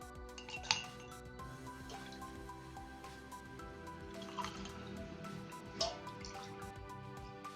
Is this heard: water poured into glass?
yes